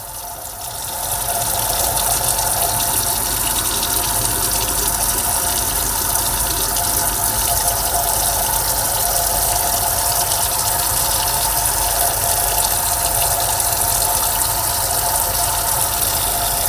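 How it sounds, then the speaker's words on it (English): Water runs steadily from a tap as soapy hands are rinsed at a sink, a loud continuous gushing stream that starts within the first second and keeps on without a break, no voices. "you must now rinse all soap off of your hands, wrists, and fingers"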